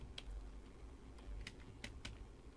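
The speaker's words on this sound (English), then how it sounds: "if you guys hear my keyboard" Keys clatter on an old Asus computer keyboard, a handful of sharp, uneven clicks close by and fairly quiet, with no talking.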